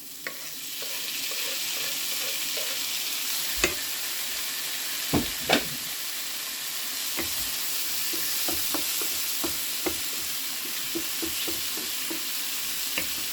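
Tomatoes go into a hot pan and are stirred, with a constant loud frying hiss and scattered sharp spoon knocks and scrapes against the pan, close and steady, with no talking.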